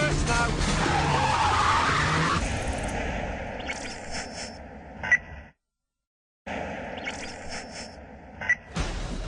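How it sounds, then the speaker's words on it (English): Tires squeal and skid loudly as a car is thrown hard into reverse during a Sri Lankan Special Task Force VIP extraction drill, the screech fading, a brief silence, then further engine and tire noise with voices underneath. "Drive us straight into reverse now."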